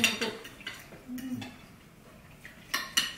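A metal fork and knife clink and scrape against a plate during a meal of shrimp curry and potato fritters, a few sharp close chinks spaced unevenly, with a quiet pause between.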